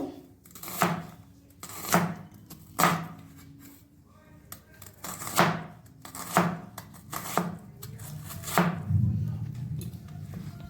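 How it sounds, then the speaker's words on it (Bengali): A knife chops onion on a board, a run of about a dozen crisp, evenly spaced cuts roughly a second apart, close and distinct with a soft low rumble beneath. "প্রথমে পেঁয়াজটা কেটে নেব।"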